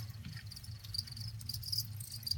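Faint, high chirping of crickets in a breeding container, soft repeated trills over a low background hum, with no voices.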